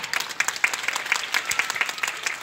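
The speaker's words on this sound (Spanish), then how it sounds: "quiero un fuerte aplauso para él" A small group claps briefly, the individual claps distinct and fairly close, with an uneven, scattered rhythm.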